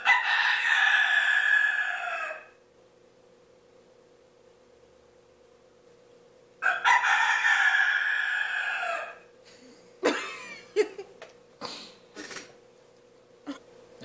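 A rooster crows twice, loud and close, with long drawn-out calls separated by a quiet gap, followed by a few short clucks and scattered rustles over a faint steady hum.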